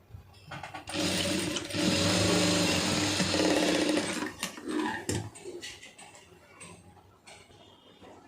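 An electric sewing machine stitches grape silk cloth for a tailoring job in a burst of fast, whirring runs that stop and start, fairly quiet and close, with no voices.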